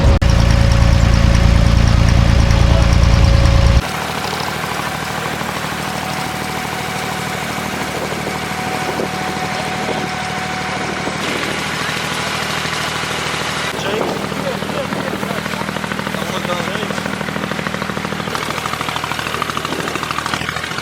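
An abra boat's engine idles, then runs at a steady mid-range drone while crossing Dubai Creek in old Dubai, starting louder and more rumbling before settling into a constant hum.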